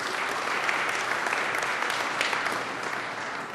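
An audience at a public crime-statistics event in Prince George's County gives a round of applause, dense sustained clapping from many hands filling the room at even loudness.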